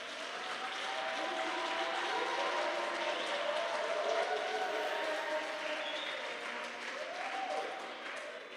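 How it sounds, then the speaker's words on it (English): Sustained applause from a youth crowd in Upington, Northern Cape, steady clapping filling the space with a few cheers and voices rising over it. "I want you to give a thanks, a greatest applause to the youth of Northern Cape"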